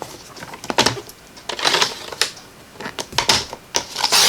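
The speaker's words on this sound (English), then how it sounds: "I'm going to go ahead now and I'm going to cut this down into a mat" A card maker slices A2 cardstock down into a mat with a paper trimmer, giving sharp, close clicks and sliding scrapes in uneven bursts, with no voices.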